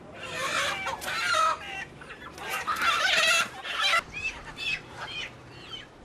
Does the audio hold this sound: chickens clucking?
yes